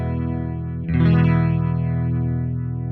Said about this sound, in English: Let's go over to the Fractal, which is just a generic rotary block.